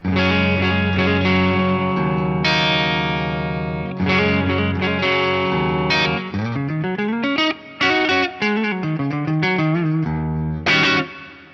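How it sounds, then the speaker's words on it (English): Sustained melodic tones swell into a big, washy hall reverb from a Yamaha REV7 with tails ringing between notes, the lows and highs trimmed for a darker, muted sound. "Let's have a listen to what that does on the reverb tone."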